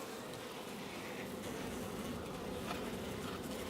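Bees in a winter beehive in January, burrowing into homemade fondant, give a steady, soft droning hum that carries on without a break and sits at a low, even level.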